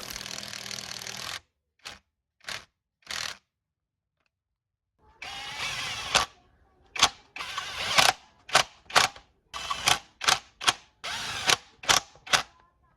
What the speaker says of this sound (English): Now connecting lower transmission rod.